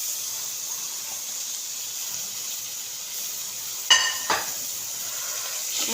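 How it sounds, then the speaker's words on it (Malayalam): Chopped tomatoes go into a pan of frying onions for chicken biryani, giving a steady sizzle with a sharp squealing hiss near the middle and a second burst just after. "തക്കാളി ഇടുന്നതാണ്."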